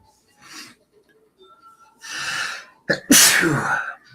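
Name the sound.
sneeze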